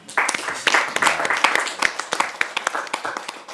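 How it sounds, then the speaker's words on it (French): An audience at a business partners' event claps, a moderately sized crowd giving brisk, irregular applause that is loud and close, with individual claps standing out before it begins to thin. "on doit vous applaudir également"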